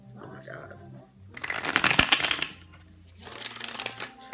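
Tarot cards being shuffled in two quick riffling bursts, close and fairly loud, with faint voices murmuring in the background.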